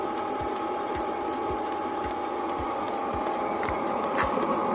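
A small fuel pump on a Chinese Webasto-style diesel air heater in a camper van ticks in a steady rhythm, roughly one soft low pulse every half second, over the continuous whir and hum of the running heater.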